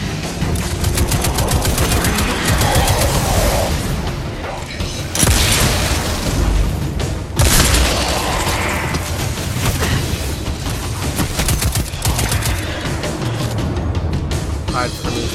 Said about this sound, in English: run away from the grenade